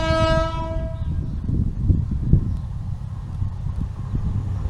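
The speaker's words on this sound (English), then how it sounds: "so hopefully the train will be by soon" A train horn blasts at the start, then the heavy rumble and clatter of an East Midlands Railway train rolling past a level crossing close by, loud and continuous.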